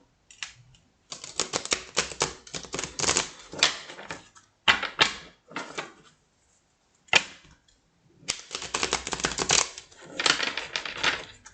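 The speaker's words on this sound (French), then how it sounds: "Je vais battre les cartes." Oracle cards being shuffled by hand, bursts of crisp riffling and slapping clatter that come in several separate runs with short silent pauses between them.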